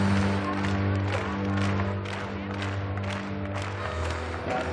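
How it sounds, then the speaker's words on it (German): A crowd at an indoor hockey World Cup arena in Leipzig claps together in a slow, even rhythm, the claps repeating under a steady tonal drone of music filling the hall. "Langsam den Rhythmus klatschen."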